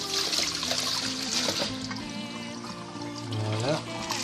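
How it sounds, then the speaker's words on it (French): Soaked sushi rice and water poured into a colander, a steady rushing splash under faint background music, close and fairly loud. "il n'y a plus qu'à les verser dans la passoire"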